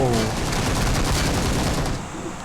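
Rapid gunfire bursts from a Transformers battle game featuring Optimus Prime and Megatron crackle loudly and densely throughout, as a continuous volley with no pauses.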